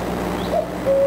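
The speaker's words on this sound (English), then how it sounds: "It's a cuckoo." A recorded cuckoo call plays back, a soft two-note call rising over a hum of room noise, the second note held steady and clear at the end.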